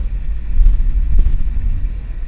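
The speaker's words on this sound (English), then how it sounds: "It's thundering like a motherfucker." Low, continuous rumble of thunder rolling in the distance, a steady deep roar that swells slightly midway without any sharp crack.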